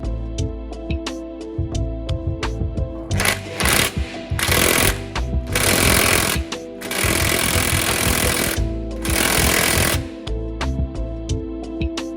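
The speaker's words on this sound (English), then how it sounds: "We set up the bush puller tool and slowly press the old bushes out." A bush puller tool presses worn old rear differential bushes out of a Pajero housing, giving loud, harsh bursts of rapid mechanical hammering and grinding separated by brief steadier pauses, close and continuous.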